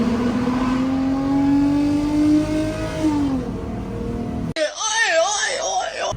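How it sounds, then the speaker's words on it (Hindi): A car fitted with an aftermarket exhaust accelerates hard, its engine note climbing steadily then falling away, followed by a burst of rapid revving near the end; a voice is heard alongside the engine. "एग्जॉस्ट लगाने का ये नुकसान होता है कि शोर आता है"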